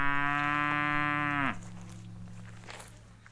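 A cow in a mountain pasture gives one long, loud, close moo lasting over a second, then quiet outdoor ambience with faint distant sounds.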